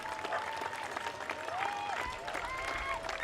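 Spectators applaud along the course of the Cardiff Half Marathon 2024, a steady wash of clapping and crowd noise throughout, with a commentator speaking over it.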